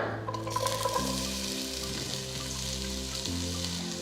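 Two thinly sliced medium onions fry in oil for Andhra-style veg pulao, a continuous close sizzle running evenly throughout beneath a faint steady humming tone.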